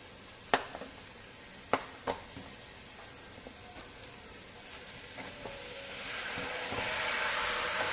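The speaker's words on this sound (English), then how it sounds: "Now I'm gonna go ahead and add in my turkey, my ground turkey." Ground turkey sizzling in a pan for homemade lasagna meat sauce, a faint steady frying hiss with a few sharp clinks of stirring, growing louder toward the end.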